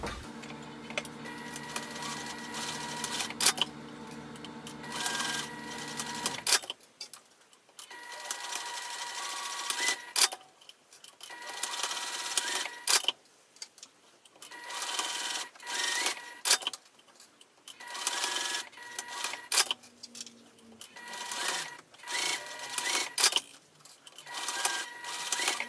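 Sewing machine stitching seams on a cosmetic pouch, close and clear, in repeated short bursts of rapid needle chatter separated by brief pauses, with a longer steady run at the start.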